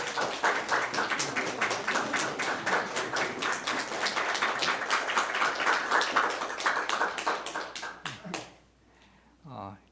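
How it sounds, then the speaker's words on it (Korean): A church congregation gives welcoming applause during a revival service, a dense, steady roomful of clapping that fades out near the end, with a voice speaking over it. "인사드릴 때 환영의 박수 부탁드립니다."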